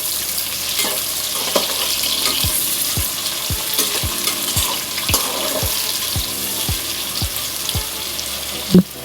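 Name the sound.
onions sautéing in a pan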